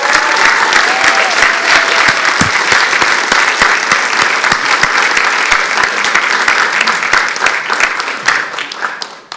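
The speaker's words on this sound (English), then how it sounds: "let's give them a huge round of applause as they exit" A large audience gives a huge round of applause as presenters leave the stage at a Pitch Up Geelong community event, dense steady clapping throughout that fades at the end.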